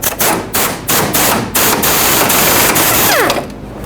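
Ratchet tightening the fuel tank strap bolt under a 2011-2016 Ford F-350 with the 6.2L V8, loud rapid clicking in several close bursts with short pauses, then a squeaky scrape near the end.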